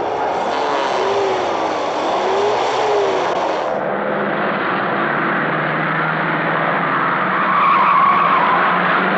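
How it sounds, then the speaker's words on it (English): A fast car from around 1960 revs hard and skids, its engine whining up and down before a long tire squeal rises near the end, loud and continuous with no talk. "A few people still enjoy the performance of a fast car."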